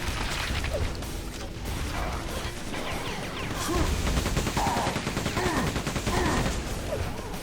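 Continuous weapon fire and explosive impacts in the 2023 Quake II remaster, a dense, loud barrage of rapid shots and crashing hits with no pause throughout.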